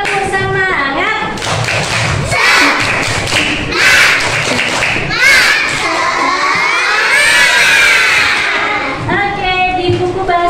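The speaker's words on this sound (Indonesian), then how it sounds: "1, 2, 3 tepuk semangat." A classroom of children does a rhythmic spirit clap, loud and close, with sharp clustered claps, shouted chant syllables and excited voices mixed through the whole passage.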